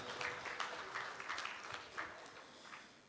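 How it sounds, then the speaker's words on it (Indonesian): An audience at an awards ceremony claps for the finalists, a soft, fairly distant patter of applause with uneven bursts, quiet throughout with little talk. "Mari kita tepuk tangan untuk 9 finalis yang lainnya."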